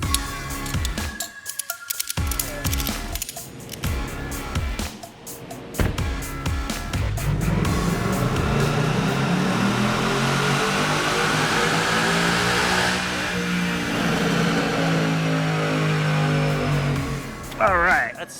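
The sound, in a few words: 2019 Ford Mustang GT with 10-speed auto running on a dyno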